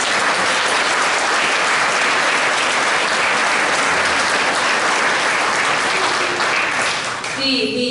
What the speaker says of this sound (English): One more round of applause for the balladeers for their lovely performance.